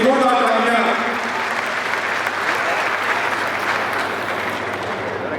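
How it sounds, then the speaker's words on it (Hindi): A hall audience applauds a district and sessions judge at a lawyers' association oath ceremony, a sustained burst of many hands clapping that fades slightly over several seconds. "उनके लिए जोरदार तालियां।"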